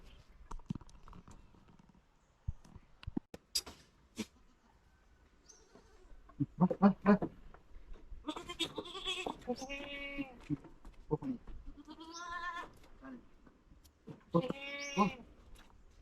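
Young native goat kids bleat repeatedly in an old pen, several clear cries overlapping, with a person talking intermittently nearby.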